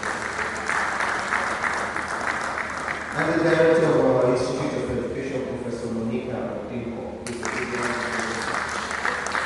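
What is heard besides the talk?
audience applause for acknowledged professors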